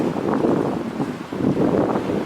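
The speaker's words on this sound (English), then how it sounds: "It's been steadily windy and getting windier today." Strong wind gusting in bitter Minnesota cold at 23 below zero, a steady rushing roar that swells and dips in uneven gusts, with no voices.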